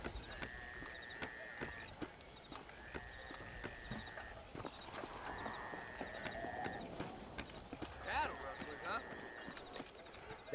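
Horses in the Red Dead Redemption video game clip-clop along at a steady walking pace, their hooves soft and somewhat distant under a busy bed of ambient town sound and faint tonal music.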